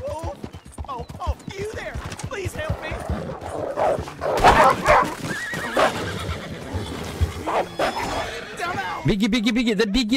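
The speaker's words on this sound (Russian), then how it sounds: "Да-да-да, лошадка." A horse in the video game Red Dead Redemption 2 neighs and whinnies loudly, mixed with hoof clip-clop, with a human voice speaking over parts of it.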